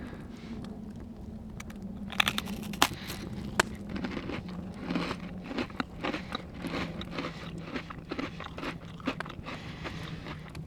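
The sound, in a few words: biting crunchy ice cream sandwich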